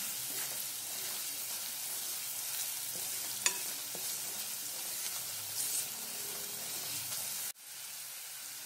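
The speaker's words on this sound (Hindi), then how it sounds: "2 बड़े चम्मच लाल मिर्च पाउडर लिए, मिक्स कर लेते हैं अच्छे से" Red chili powder stirred into masala frying in a pan for mushroom paneer masala: a continuous sizzle with scraping stirs and a sharp clink partway through, then a sudden drop before the frying resumes.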